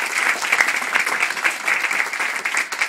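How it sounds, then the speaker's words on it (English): An audience at a public talk on housing and healthcare breaks into a round of applause, dense steady clapping filling the whole stretch without pause. "let's give a great round of applause to them."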